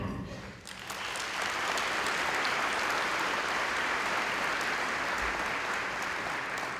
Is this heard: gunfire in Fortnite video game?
no